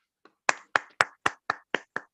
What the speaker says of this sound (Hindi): तो नाम सुनीता टीचर के लिए तालियां बजाएंगे।